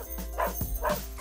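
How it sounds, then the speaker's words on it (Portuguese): A dog's bark-like yips come twice in quick succession, fairly loud over a steady low hum, with no talk. "Você pode ouvi-lo latir a quilômetros de distância."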